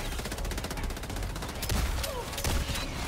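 Incendiary rounds fired from a gun in Helldivers 2, a dense stream of rapid shots cracking in close succession over steady game noise, with a couple of heavier bursts near the end.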